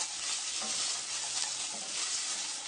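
Tomato paste being stirred into softened vegetables in a hot pan while making homemade tomato sauce, with steady close sizzling and soft scraping from the stirring, no talking.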